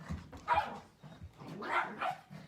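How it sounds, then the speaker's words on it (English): A puppy and an old Chihuahua yapping and growling playfully at each other, quick irregular barks close by with brief pauses between bursts. "this is what happens when the puppy decides to play with the old Chihuahua"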